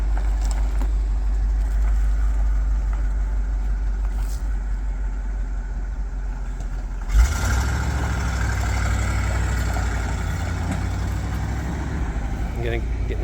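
A 1967 C60 dump truck with a 366 engine, five-speed manual and 14-foot dump bed idles with a deep, steady rumble, swelling louder after a bump midway as the truck shifts nearby.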